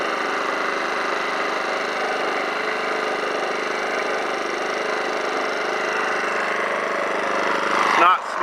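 An Alton AT04141 portable generator engine runs steadily under its own power, a loud, even mechanical drone held for about eight seconds before a brief burst of handling noise at the end.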